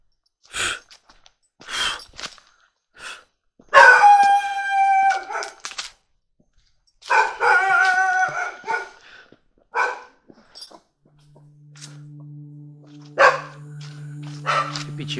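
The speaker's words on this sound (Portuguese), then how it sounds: "Os cachorros estão na corrente ali." Dogs on chains bark and howl near a school at night, with several loud bursts of barking and drawn-out howling, then a steady low hum takes over near the end.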